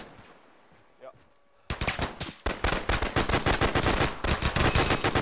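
Gunfire in the video game Arma 3: after a quiet start, loud rapid automatic bursts of shots rattle on almost without pause, close and heavy.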